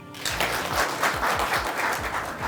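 An audience at a health panel breaks into applause for a newly introduced panelist, a short burst of brisk clapping that starts suddenly and holds steady.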